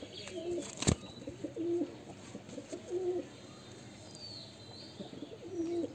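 A pet pigeon coos in soft, repeated low phrases at close range, with a sharp brief knock near the start and light rustling between calls.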